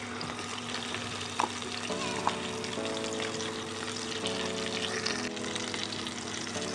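Chicken pieces for a black pepper kebab fry in hot oil, giving a steady, close sizzle that runs the whole time over a low, even hum, with a couple of faint clicks.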